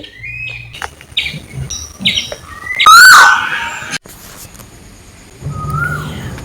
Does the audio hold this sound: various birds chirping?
yes